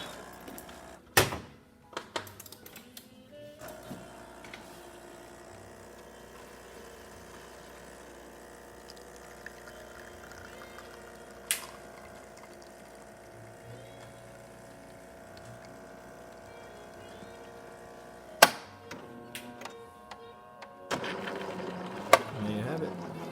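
A Jura E8 automatic coffee machine runs a shot: a steady motor hum and grinding whir with sharp mechanical clicks and clunks at the start and near the end, and a louder burst of pumping toward the finish.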